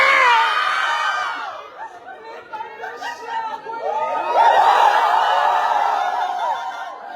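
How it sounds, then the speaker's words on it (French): Crowd of cat fans at a Scentsy event in Montréal shouting, cheering and laughing together, a dense swell of many voices that dips briefly midway and then rises again. "Les fans de chat, on crie plus fort, s'il vous plaît."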